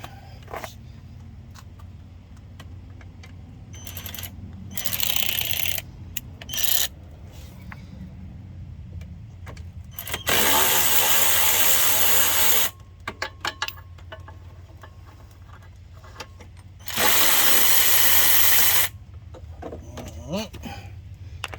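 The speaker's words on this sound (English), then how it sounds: "take this exhaust bolts back out real quick" Wrench working on the exhaust bolts of a 50cc scooter, several bursts of rapid ratcheting separated by quieter handling and occasional talk.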